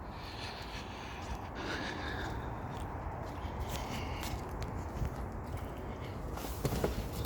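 Footsteps of a person walking over to a 2003-2007 fourth-generation Toyota 4Runner, a steady run of soft outdoor steps under broadband background noise, with a slightly louder scuff near the end.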